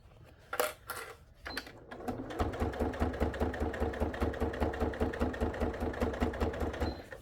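A sewing machine stitches a seam on a faux leather iPad bag, running in a steady, rapid, loud rhythm after a few brief handling knocks, with no talk.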